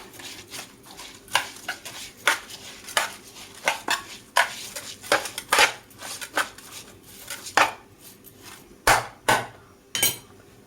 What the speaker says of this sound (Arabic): بقى ايه نقلبه كده الاول، نقلبهم كده عشان خاطر كلهم ايه يبقوا حاجه واحده